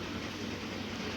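A train in a natural disaster video game rumbles along in a brief steady rolling clatter, fairly faint and with no talk.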